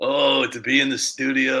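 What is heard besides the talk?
None of the usual background noises is heard.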